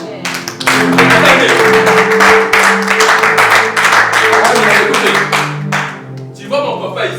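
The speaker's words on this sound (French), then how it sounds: "J'aime les acclamations." An audience at a French-language church service closing ceremony claps and cheers loudly and continuously, with sustained musical tones underneath.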